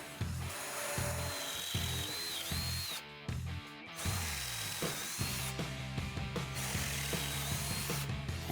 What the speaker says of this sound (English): The last smaller diameter holes, which are 4 and 8mm, we can do with a cordless drill.